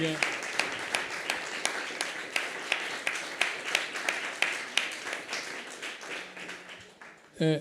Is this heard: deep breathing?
no